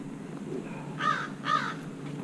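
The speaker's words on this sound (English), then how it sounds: "And the wonderfully amazing, beautiful, and dangerous seagull." A seagull gives two harsh, raspy calls about half a second apart, fairly close and clear over a low steady background hum, with no talking.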